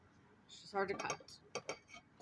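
Knife slicing through a tough wild lettuce stalk: a few close, crisp cutting and crunching strokes with light clinks, brief and fairly quiet.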